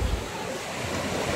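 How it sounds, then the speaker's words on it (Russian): Sea waves wash on the beach of Bacardi island in the Dominican Republic, a steady close rush of surf mixed with wind buffeting the microphone. "Итак, вот он, пляж на острове Бакарди."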